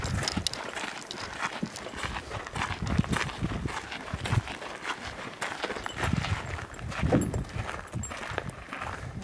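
Hooves clop steadily on the ground as a horse walks at a moderate distance during an elk hunt in Arizona, with faint outdoor ambience behind.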